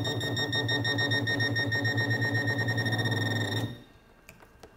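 Electronic beeping from a Pro Pointer 2 metal detector pinpointer set to full sensitivity, a steady rapid pulsing tone close up that stops abruptly, leaving faint rustling and a few clicks.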